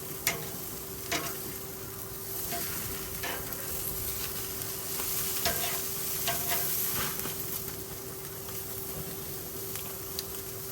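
A steak, just flipped on a grill, sizzles steadily and moderately with scattered crackles and small pops and a faint constant tone in the background.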